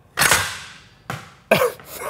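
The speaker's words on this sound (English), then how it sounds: "First test firing of the nuke launcher in" A homemade rubber-band Fat Man mini-nuke launcher fires once, giving a sharp snapping release near the mic, followed by two more short clacks or thumps as the projectile lands and the rig settles.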